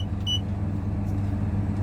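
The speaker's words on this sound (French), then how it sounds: "Et l'appareil va se mettre à biper." A cabin filtration and pressurisation unit gives a couple of brief, high electronic beeps near the start. A loud, steady low hum of machinery runs underneath the whole time.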